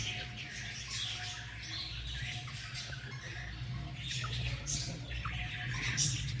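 A breeder pair of rosella parrots, a Rubino male and a red opaline female, gives repeated faint squawks and chirps over a low background hum.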